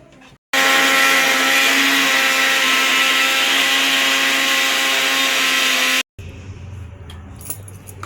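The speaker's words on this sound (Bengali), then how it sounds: "এই যে কড়াইশুঁটি মিক্সিতে ঘেঁটে নিলাম" A mixer grinder blending green peas whirs loudly for about five seconds in one continuous run, then cuts off, followed by quieter clattering and handling noises.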